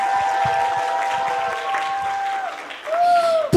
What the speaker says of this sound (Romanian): Aplauze, vă rog.